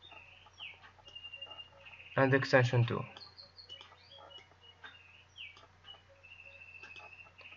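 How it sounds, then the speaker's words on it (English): A pet bird chirps indoors in a short burst of bright calls while a person talks quietly, with softer chirps scattered throughout over a low steady hum. "If you are listening to a sound of birds, that's my bird."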